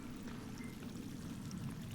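Water pouring in the Sons of the Forest video game, a faint, steady splashing trickle that runs unbroken for the whole moment, with no talk over it.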